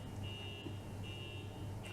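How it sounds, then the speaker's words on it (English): Faint electronic beeping in the background, a thin high tone repeating in long steady pulses roughly every three-quarters of a second, quiet under a low indoor hum. "People will be able to hear a faint beeping in the background."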